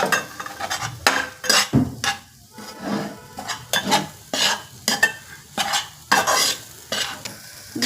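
A cup of coconut powder roasting in melted ghee is stirred in a pan, making about fifteen rhythmic scraping strokes over a soft frying sizzle, each stroke clear and close.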